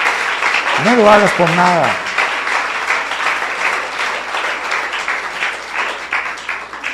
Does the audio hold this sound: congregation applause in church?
yes